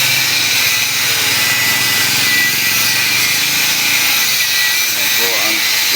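Angle grinder running continuously while a tricycle motor stand is fabricated, a dense steady high-pitched whine and grinding hiss, loud and close for the whole stretch, with voices talking faintly underneath.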